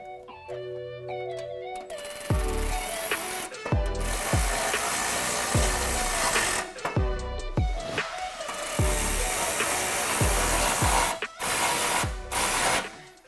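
A power tool whirs in repeated short bursts, ratcheting and clattering as bolts are driven in while fitting aluminum inner fenders to a Jeep Wrangler JK, with metallic clicks between runs.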